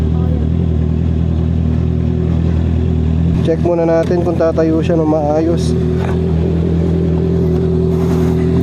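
A motorcycle engine runs steadily with a brief burst of revving in the middle, the drone loud and close while a person speaks over it.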